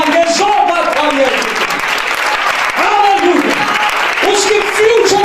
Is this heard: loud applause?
yes